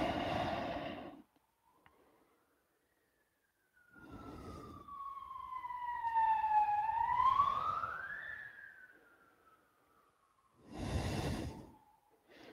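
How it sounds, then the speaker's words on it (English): Emergency sirens wail outdoors at a distance, a long single tone sweeping up and down across several seconds, with brief broadband bursts of other noise before and after. "I think they're having National Siren Day over there"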